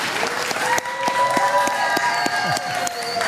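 A large crowd at a Donald Trump event applauds loudly and steadily, with scattered sharp claps and cheers and faint voices mixed into the sustained ovation.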